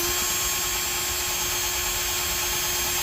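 A power drill bores holes in a catamaran hull during a boat project, giving a steady, fairly quiet continuous whine with a constant tone throughout, close to the microphone and with no talking.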